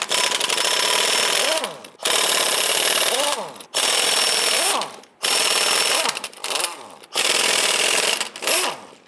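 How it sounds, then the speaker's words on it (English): Impact wrench loosening wheel lug nuts with a 19mm socket on a 1995-2001 Ford Explorer, four loud sustained rattling bursts of about a second each separated by short pauses, close up. "Using your 19mm socket, go ahead and loosen and remove the nuts."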